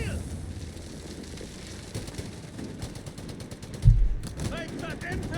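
Machine gun fire in the Company of Heroes 3 video game, including a pintle-mounted gun, crackling in bursts under continuous commentary with a louder thump partway through.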